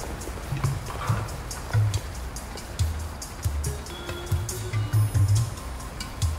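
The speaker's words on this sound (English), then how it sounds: "There's this horse." A horse's hooves clip-clop at an irregular walking pace in The Godfather video game, set in Los Angeles. The hoofbeats are moderately close, over low ambient noise.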